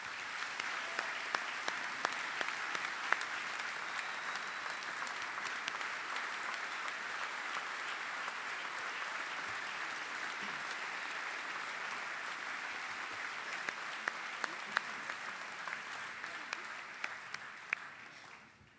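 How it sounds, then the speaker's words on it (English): A school speech day audience gives sustained, dense applause that stays steady and loud for the whole stretch before tapering off at the very end, with no talking over it. "can we all give Mr. Fuyun a loud round of applause"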